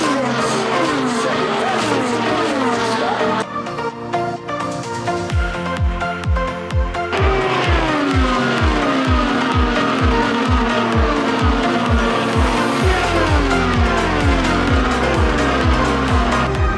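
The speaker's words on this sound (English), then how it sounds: "these cars are going roughly about 220 miles per hour" Indy 500 race cars streak past at roughly 220 mph at Indianapolis Motor Speedway's turn three, a loud continuous roar with rising and falling engine whines as car after car passes close by.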